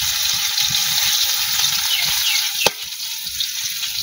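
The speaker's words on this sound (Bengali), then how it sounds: "আলুটা একটু ভেজে নেই" Potatoes frying in a pan, giving a loud, continuous hiss and crackle of oil close by, with one sharp clack of a utensil partway through.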